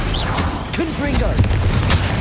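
Confringo spell cast in the Hogwarts Legacy video game, a burst of blasting booms and crackling impacts mixed with other game effects, with a voice calling out over the top.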